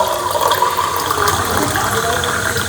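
Water from a home pot is poured into a cooking pan to make gravy, a steady continuous gush and trickle at close range.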